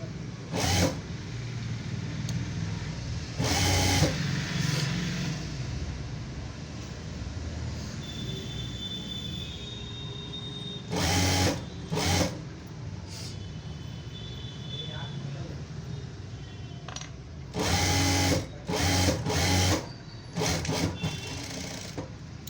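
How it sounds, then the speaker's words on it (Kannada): A sewing machine stitches a fitting seam on a blouse in short, loud bursts of whirring, some single and some in quick clusters, separated by quieter stretches with talk and room sound. "ಇಲ್ಲಿ ಇದನ್ನು ಕರೆಕ್ಟಾಗಿ ಈಕ್ವಲಾಗಿ ಇಟ್ಕೊಂಡು ಸ್ಟಿಚ್ ಸ್ಟಾರ್ಟ್ ಮಾಡಿ."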